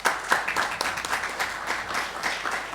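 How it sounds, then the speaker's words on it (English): A conference audience applauds after an environmental presentation by an Oil and Natural Gas Corporation executive, a steady crackle of many hands at moderate level, continuous throughout with no talking. "ONGC deserves a big round of applause"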